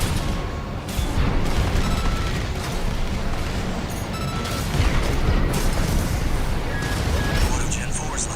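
Heavy cannon fire and blasts from mech combat in the video game Armored Core, a dense, loud barrage of booms and impacts that never lets up, with speech under the battle noise.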